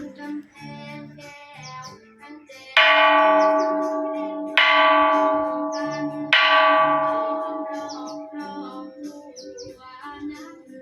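Temple bell tower bell on Ko Sichang struck three times, each strike a loud, close, bright clang ringing out and slowly decaying, with birds chirping softly in the background.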